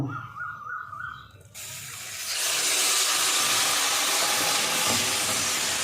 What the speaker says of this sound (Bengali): লঙ্কার বাটার গোলাটা, সেটা আস্তে আস্তে করে দিয়ে দেব